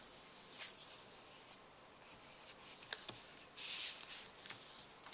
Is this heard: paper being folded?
yes